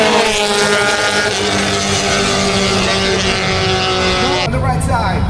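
Drag racing at a Philippine strip, a red Honda Civic among high-horsepower cars, a loud sustained engine roar with rising and falling pitch throughout, with an announcer talking over it.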